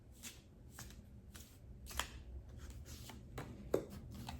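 Cards being shuffled in quick riffling bursts, repeating every half second or so, close and soft, with a few sharper snaps.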